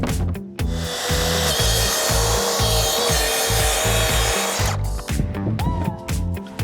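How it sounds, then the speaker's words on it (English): A track saw cuts marine plywood in a garage with a loud, continuous buzzing rip lasting about four seconds. Rhythmic low thumps run beneath it and carry on after the blade stops. "There's me using my track saw that I literally just bought."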